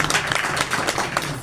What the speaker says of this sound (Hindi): सबको बजानी चाहिए ना, जोर से ताली।